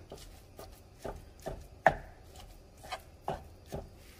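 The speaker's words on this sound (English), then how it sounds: "Now I'm just going to break apart and start cooking my ground beef." Ground beef is broken apart in a pan with a utensil, giving a string of sharp, evenly spaced scraping knocks and taps roughly every half second, close and clear, with no one talking.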